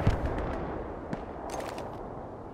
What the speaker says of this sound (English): Most of the shots firing is to the left.